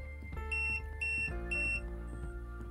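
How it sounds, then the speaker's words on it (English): A Schlage AD-400 electronic lock beeps three times in quick, even succession after linking to a PIM-400-485, the tones clear and close over faint low background hum. "When it is done, the lock will flash and beep, confirming the radio frequency channel to which it is linked."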